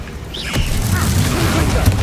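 The Bombarda spell goes off in Hogwarts Legacy as a short magical whoosh that bursts into a boom, surrounded by other game effects, with a voice in the mix.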